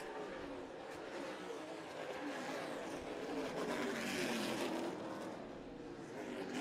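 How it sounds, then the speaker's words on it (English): Race cars roar around a circuit track during the 2024 ICAR Evirum 100, Round 10, with a dense, continuous engine roar that swells and fades as cars pass close by. "driving down into turn number 1, and you can almost see LeBay's just got a lot more race car left underneath him"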